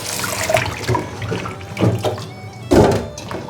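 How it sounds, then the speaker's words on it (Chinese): A basin of lotus root is rinsed under running filtered water, with splashing bursts and gurgling surges rising and falling at irregular intervals close by. "莲藕我已经清洗2次了，现在再放进来，用过滤水冲"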